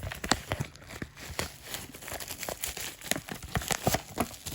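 Plastic and cardboard packaging of an M10 keyboard for an X88 Pro 20 Android TV box crinkles and rustles in quick, close, uneven bursts as it is unwrapped.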